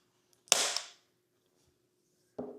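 A plastic screen protector installation frame for an iPad Air unsnaps with a sharp single pop, followed by a brief rattling release, then silence and a second softer click near the end.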